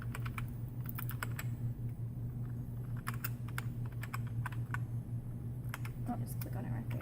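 Keys on a computer keyboard being typed in quick bursts with pauses between, clicking clearly over a steady low electrical hum, with a voice talking in the background.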